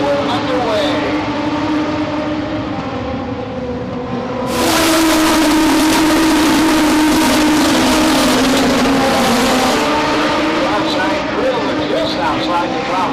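Short-track race cars from the Legends, PASS Sportsman and PASS Modifieds classes roar off at a race start, engines rising sharply to a loud, sustained, revving drone as the pack accelerates, with a commentator talking over it.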